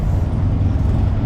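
Bus rumbling with a steady low engine drone as it drives off up a narrow street in an English market town, a short continuous burst of close traffic noise with no talking.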